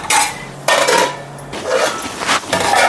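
Metal clatters as a lid goes onto a pot of brinjal pulao, several loud, close clanks and scrapes of cookware in quick succession.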